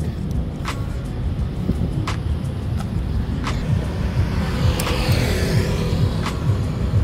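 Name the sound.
Kawasaki Ninja 300 motorcycle with Yoshimura Alpha exhaust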